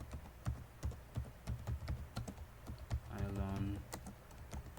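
Rapid clacking of a computer keyboard as a customer address is entered into accounting software, close and fairly quiet, with a brief hum of voice partway through.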